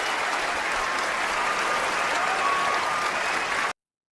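A studio audience at the close of a podcast episode breaks into steady, dense applause that holds evenly for several seconds, then cuts off abruptly into silence.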